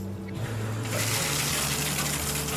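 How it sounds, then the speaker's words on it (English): A shower is turned on and runs steadily, starting quieter and then swelling into a loud, continuous hiss of spraying water that fills the rest of the moment. "now it's time for me to hop in the shower, specifically an everything shower"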